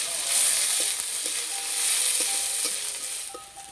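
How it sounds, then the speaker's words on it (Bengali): Sliced onions fry in oil in a kadai with dried red chilli and crushed garlic, giving a steady, close sizzle broken by a few soft stirring scrapes, with no talking. "পেঁয়াজ হালকা করে ভেজে নিয়েছি"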